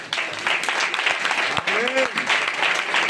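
A church congregation claps in thanks, a dense burst of applause that keeps going throughout, loud and close, with voices mixed in.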